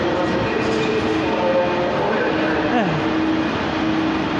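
A train at Edinburgh Waverley station, having arrived from Manchester Piccadilly, gives a steady rumble with faint squealing and rail noise that carries throughout, heard close within the station.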